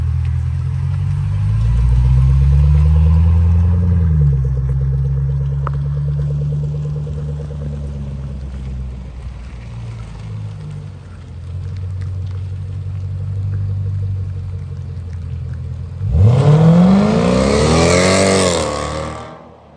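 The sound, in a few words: Range Rover 5.0 V8 supercharged engine running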